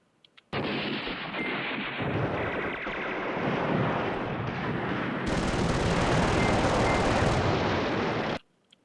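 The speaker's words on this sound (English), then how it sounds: "Okay, so we got an airstrike. Yeah, let's just drop it over here." Airstrike explosions in the Command Ops 2 wargame, set at Iraklion airfield on Crete: a sustained loud roar of blasts and rumbling fire that swells louder midway, then cuts off abruptly.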